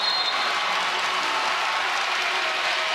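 Volleyball arena crowd at a Stanford versus Washington State match cheering and applauding, a dense, steady roar of clapping and shouting that fills the space without letup.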